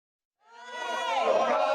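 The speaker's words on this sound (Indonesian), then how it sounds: "Sorakan warga tertuju pada 4 orang yang memakai baju tahanan dan tangan terborgol" Residents jeering at four handcuffed kidnapping suspects in prison clothes being led by police in Makassar, a crowd roar rising quickly from silence and holding loud and dense.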